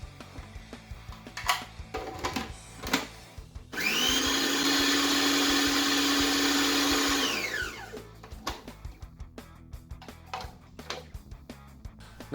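A food processor purées sweet potato with butter, its motor surging to a loud steady whir for about four seconds and then winding down. Quieter clatter and knocks from the kitchen come before and after.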